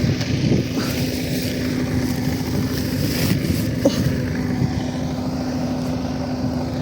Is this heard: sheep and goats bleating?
no